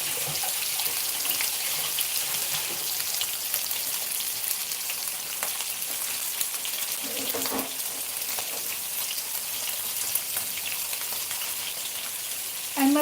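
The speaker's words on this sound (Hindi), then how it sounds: "अब इसको फास्ट गैस पे फ्राई करने का, यानी झींगा नरम रहती है" Prawns frying hard in a hot pan over high gas for Konkani seafood, a steady dense sizzle and crackle running throughout at an even, fairly loud level, with no talk.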